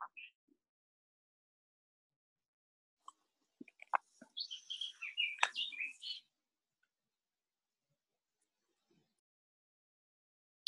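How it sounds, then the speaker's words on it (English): Wild birds sing outdoors, faint and somewhat distant: a few scattered chirps, then a short burst of rapid warbling song, followed by near silence. "I'm trying to mute the beautiful birds that are singing"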